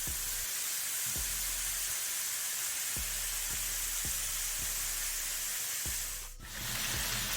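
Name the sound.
chicken party wings frying in oil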